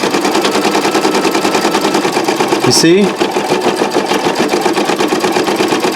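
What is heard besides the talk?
Brother Designio sewing machine stitching with presser foot down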